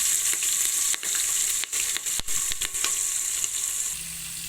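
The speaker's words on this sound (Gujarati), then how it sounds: "ડુંગળી અને લીલું મરચું ઉમેરી દઈએ." Onion and green chili frying in a pan of oil for a village-style Kathiyawadi vegetable biryani, a loud, steady, close sizzle with brief crackles and stirring knocks throughout, no voices.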